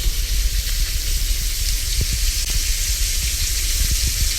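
A medium steak sizzles on a hot iron, a continuous close hiss of frying with small pops and crackles scattered through, fairly loud and without voices.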